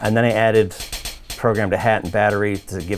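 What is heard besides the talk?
No distinct noise like a dog, phone or traffic.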